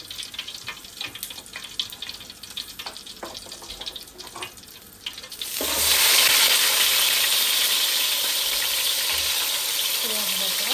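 Whole cumin seeds drop into hot oil for a rohu fish curry with beans, potatoes and tomatoes, and a loud, broad sizzle erupts midway and holds steady after quieter kitchen clatter.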